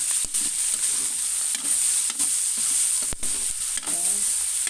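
Pork browning in a pan with garlic and onion for a Bisaya-style pork alamang dish: a steady close sizzle with repeated sharp scrapes and knocks as the meat is stirred, with no voices.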